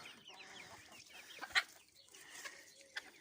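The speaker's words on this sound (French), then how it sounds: "Alors c'est le coq qui cherche à cocher les poules." Pekin bantam chickens and a rooster cluck faintly in a quiet coop, with a few short, soft calls scattered over low background noise.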